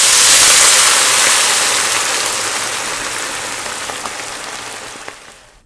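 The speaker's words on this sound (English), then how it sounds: "And I'm going to add some water." Water is poured into a pan of well-browned onions for an Afghan lamb and mung bean dish, giving a loud, hissing sizzle that starts strong and slowly fades away.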